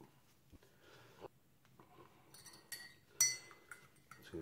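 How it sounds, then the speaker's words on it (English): A spoon stirring coffee with sugar in a cup during a homemade MRE meal, giving a few light, sparse clinks and taps against the cup, quiet and close, with soft rustles in between. "Start to stir."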